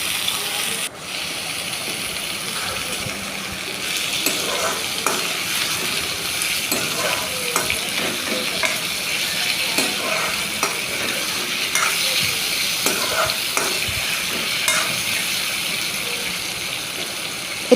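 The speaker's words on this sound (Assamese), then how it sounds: "আলুখিনি মই 2 মিনিটৰ কাৰণে ভাজি ল'ম।" Cut potatoes fry in a pan with tomato for Assamese-style mixed vegetables, sizzling steadily while a spoon scrapes and clinks through repeated stirring.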